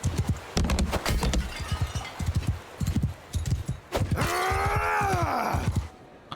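In the Mount and Blade 2 Bannerlord video game, a horse clip-clops along in close, steady clusters of hoofbeats for several seconds, then a drawn-out tonal groan or whinny-like cry rises and falls over the last hoof strikes.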